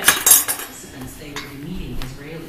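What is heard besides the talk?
cutlery chopping a waffle on a plate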